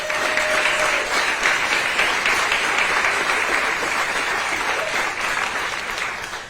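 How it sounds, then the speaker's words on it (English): A crowd at a Nashville community meeting on homelessness breaks into loud, dense applause that holds steady for several seconds, a continuous wash of many hands clapping at close range. "I need a round of applause for everybody that's up here doing their heart"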